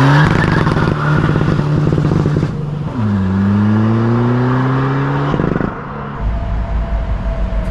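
A Volkswagen Polo TDI pulls up close and loud, engine revving with a clear rising pitch sweep through the gears before settling to a lower idle-like rumble, no voices heard.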